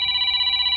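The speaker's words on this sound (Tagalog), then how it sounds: "Papang, ni Nana Florence tumawawag iti cellphone ko" A cellphone rings loudly and steadily in a domestic drama scene, a bright sustained electronic tone with a slight pulsing, close and alone with no talk over it.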